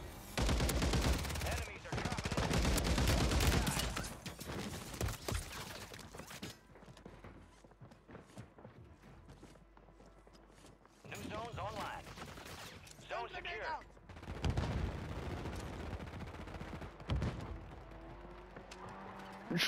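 Bursts of gunfire from Call of Duty MW3 Rebirth Lockdown mode, loud volleys and rapid shots in the first few seconds, then quieter stretches with scattered shots and further bursts later, mixed with game sounds and voices.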